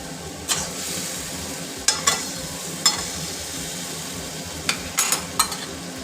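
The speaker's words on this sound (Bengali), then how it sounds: "ভালো করে নেড়ে চেড়ে মিশিয়ে নিচ্ছি পেঁয়াজের মশলাটার সাথে, কষিয়ে নেবো" Mutton being stirred with onion masala in a pan, a constant sizzle broken by repeated sharp scraping knocks of the spoon at irregular intervals; no talking.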